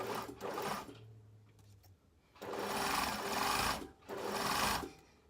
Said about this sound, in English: So I'm just sewing over that pocket now.